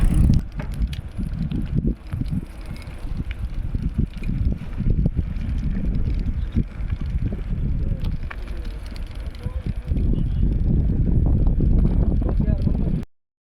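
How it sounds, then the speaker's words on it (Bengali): Two people ride bicycles outdoors across a haor wetland on a hot day, with close, steady rolling and rattling plus heavy wind buffeting on the microphone throughout. "হাওড়ার বুকে আমরা সাইক্লিং করতেছি দুজনে"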